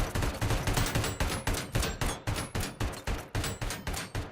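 Rapid, rhythmic gunfire in the video game RoboCop: Rogue City, a steady run of evenly spaced loud shots, each with a short decaying tail, continuing without pause throughout.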